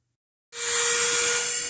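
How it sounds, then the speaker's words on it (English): A cheap Dremel rotary tool with no speed adjustment starts abruptly after a short silence and whines at a constant high pitch while it cleans out a groove, loud and close. "I've got the cheap Dremel. It doesn't have any speed adjustment on it"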